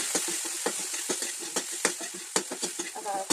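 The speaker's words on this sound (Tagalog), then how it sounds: "Magisa na tayo ng bawang muna." Garlic sautéing in hot oil in a pan, a steady sizzle broken by frequent sharp scraping clicks of a spatula stirring, close and busy.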